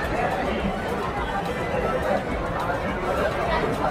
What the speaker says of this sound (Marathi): खूप गर्दी, खूप.